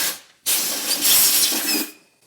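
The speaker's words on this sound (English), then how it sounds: "get some compressed air down in there and blow out the head of that hex bolt" Compressed air blasts into the hex bolt head on a Mercedes 300D engine mount. A single loud, close hiss lasts about a second and a half, then cuts off.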